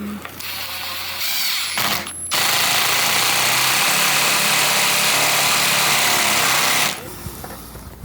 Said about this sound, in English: As you could hear, the impact driver was really working to get it in.